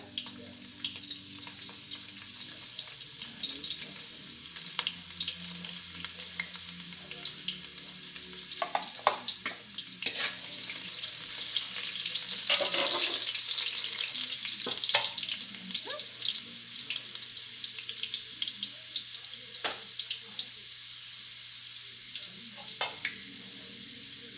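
Garlic fries in a pan for Jamaican curry chicken, a soft steady sizzle with stirring scrapes and occasional clatter and water splashes, moderately quiet and close, no talk.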